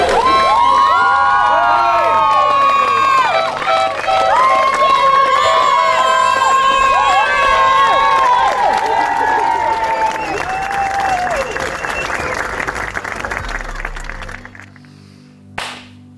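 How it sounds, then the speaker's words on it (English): A crowd at a race trophy presentation cheers and applauds the winner, a loud, sustained roar with whistles and shouts that stays full for about fourteen seconds before fading to quiet, with a brief sharp sound near the end. "Biggest cheer of the afternoon."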